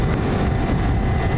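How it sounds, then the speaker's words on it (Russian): A 1999 Honda VFR 800i motorcycle on the move gives a steady, loud, low exhaust drone mixed with rushing wind noise. No separate gear whine stands out. "отдельно сзади вы слышите звук выхлопа, и отдельно здесь вот свистит вот этот вот"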